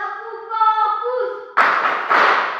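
In a classroom, children play the 'tepuk fokus' clapping ice-breaker. Voices chant together for about a second and a half, then two sharp, loud group claps follow in quick succession.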